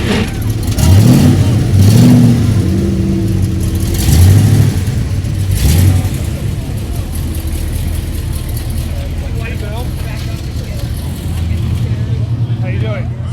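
Classic and race cars, including a GT350, an Acura track car and a C1 Corvette, roll past in a parade at Lime Rock Park with loud engine revs and rising whooshes, then a steady rumble, while a person talks throughout.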